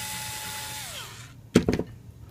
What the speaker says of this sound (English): So I'm going to go ahead and take these screws out.